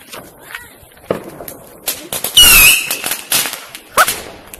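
New Year's fireworks rockets are set off outdoors: a rising whistle is followed by sharp cracks and bangs, with scattered pops before and after, close and loud.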